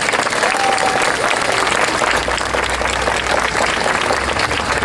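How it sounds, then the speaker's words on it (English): Audience applause at the closing ceremony of a brain cancer walk in Seattle, a dense, steady round of clapping from a crowd that holds at full strength for the whole stretch. "please give him a round of applause"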